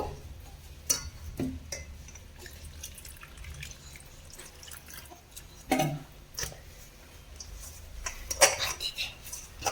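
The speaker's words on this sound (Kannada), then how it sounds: "ಈಗ ನೀರನ್ನ ಸ್ವಲ್ಪ ಸ್ವಲ್ಪ ಹಾಕೊಂಡು ಕಲಿಸ್ಕೊಳ್ಳೋಣ" Water goes in a little at a time while flour is kneaded into dough for veg momos: sparse, faint drips and soft wet clicks scattered across a quiet kitchen.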